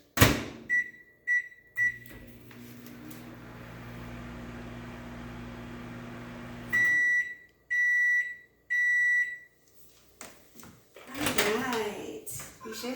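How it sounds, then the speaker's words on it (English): Microwave oven heating butter for 30 seconds: keypad beeps, then a steady low hum running about five seconds, followed by a few loud completion beeps and a door being handled. "let's put this in the microwave for 30 seconds"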